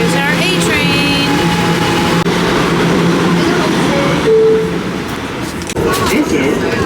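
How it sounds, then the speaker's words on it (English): A New York subway A train arriving at an underground platform, loud rumbling and screeching steel wheels with rattling cars and clicks, continuous throughout with a short tonal squeal midway. "Here's our A-Train."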